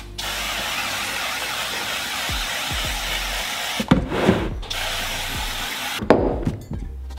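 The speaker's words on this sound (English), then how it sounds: "So I'm just gonna start spraying and then we'll soak it in the other stuff." Several bursts of spraying hiss from a pump-style bottle of cleaner on a Toyota Land Cruiser Troop Carrier's 1HZ diesel engine during a turbo install, with clanks and knocks of tools in between; no voices.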